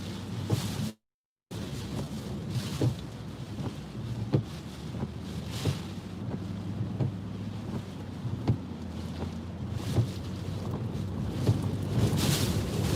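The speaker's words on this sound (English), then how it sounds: "The wind's really starting to pick up here." Strong hurricane wind during Hurricane Isaias landfall near Wilmington, North Carolina, roaring steadily and loudly close to the microphone, with broadband buffeting gusts that swell and ease, a brief dropout near the start, and no talking.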